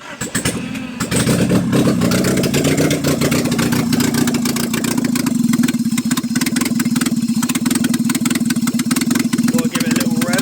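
A Nissan S12 Silvia engine with a freshly reassembled motor cranks at about one second, catches and runs loudly and steadily, with a rough idle and slight revving throughout and a faint voice underneath.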